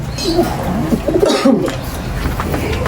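Soft, throaty pigeon coos come in low bursts close by in a pigeon loft in Laoac, Pangasinan, mixed with rustling and a broad noisy background.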